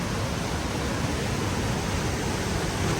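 Crescent Falls in Clearwater, Alberta pours with a loud, steady broadband roar of falling water that stays constant and close, with no other sounds.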